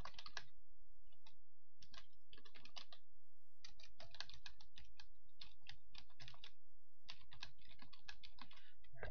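Close, crisp typing on a computer keyboard, quick irregular bursts of key clicks separated by brief pauses, with no talking.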